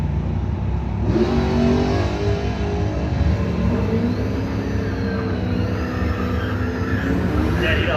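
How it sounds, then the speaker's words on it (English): A Buick drag car launches off the line at a street drag night, its engine roaring loud and close, then climbing steadily in pitch as it accelerates away, with a crowd or announcer voice faintly underneath. "So it's going to be the Woodstar side Buick leaving first"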